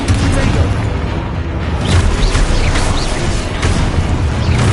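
Spell blasts from Expulso and Confringo in a Hogwarts video game, a loud, dense run of booming explosions and crackling bursts with a constant rumble, over voices calling out spell names.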